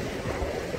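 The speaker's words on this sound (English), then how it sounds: "I have no idea where that water is" Running water, likely from a pipe under a wall near a creek, makes a steady close rushing wash with no break.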